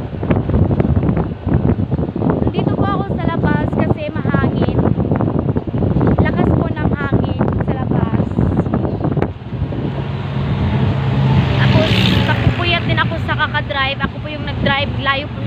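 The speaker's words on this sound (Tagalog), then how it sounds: "Dito po ako sa labas kasi mahangin." Outdoor wind buffets the microphone in loud, continuous gusts while someone talks over it.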